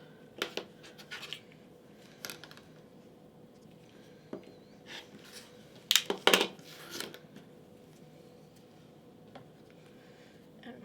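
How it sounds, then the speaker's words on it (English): Scissors trim small fabric pieces for a pumpkin mug rug, making a few crisp snips and short scraping cuts, close and quiet, scattered across an otherwise hushed room with no talking. "I'm just going to trim those off"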